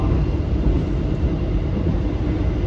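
A long fifteen-car passenger train hauled by a CC 206 locomotive on Indonesia's southern line gives a steady, loud low rumble and hiss, constant throughout, with no voices.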